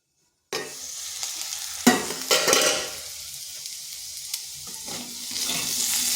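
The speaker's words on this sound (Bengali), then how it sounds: "আলুটাকেও হালকা ভেজে নেব।" Potatoes fry in a pan with a continuous sizzle. Sharp scraping stirs and a few clatters of a utensil against the pan break through the sizzle.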